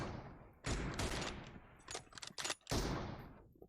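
Rapid automatic gunfire from a video game comes in several loud bursts of fast shots separated by short pauses, with no talking over it.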